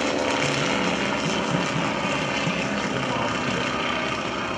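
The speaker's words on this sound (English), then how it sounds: "Flying today on the aircraft, the yellow one, the N2S-4, is Kerry Hardin from Starkville, Mississipp" A yellow Stearman N2S-4 biplane flies at an airshow, its radial engine and propeller giving a loud, continuous droning roar that holds steady throughout with no talk.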